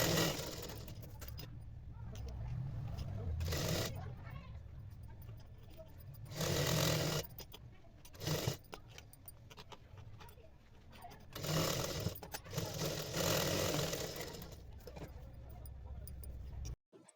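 A sewing machine stitches a border onto a blouse sleeve, its motor running in repeated bursts of whirring between pauses, close by, with a voice talking over it.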